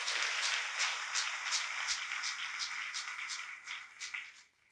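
A church congregation applauds during a Sunday sermon, giving soft, faint clapping that goes on steadily, then thins out and fades at the end.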